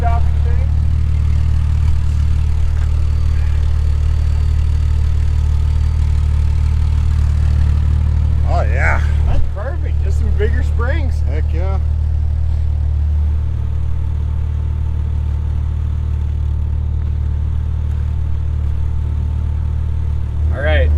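A Jeep XJ build called the double XJ idles with a steady, loud, low engine drone throughout, and brief voices break in partway through.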